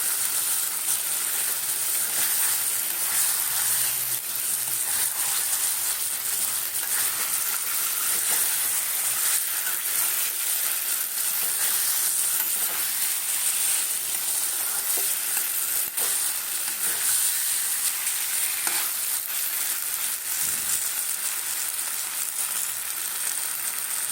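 Fried paneer stirred with spices in a pan, a constant loud sizzle and frying hiss with faint scraping stir strokes running throughout, no talking.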